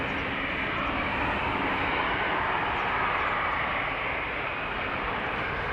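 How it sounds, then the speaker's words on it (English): KLM Boeing 737-700 airliner engines at Amsterdam Schiphol Airport, a steady broadband jet roar heard from a distance, even and continuous throughout without speech. "This is KLM flight 1375 to Bucharest, 737-700, the PHBGM, 13 years old, first flight February"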